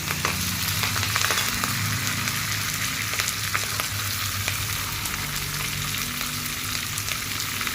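Curry leaves and green chili crackle in hot oil for a Maharashtrian upma, a loud, continuous sizzle with sharp pops scattered throughout, close up and with no voices.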